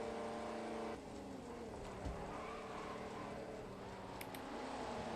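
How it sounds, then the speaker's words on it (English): A race car's engine in Assetto Corsa at Brands Hatch drones steadily as it accelerates, its note wavering and stumbling as though misfiring, loud and continuous with no talk. "it sounds and feels like it's misfiring"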